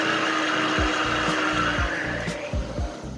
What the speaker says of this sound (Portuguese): Voltamos a bater para misturar bem o fermento e o sal.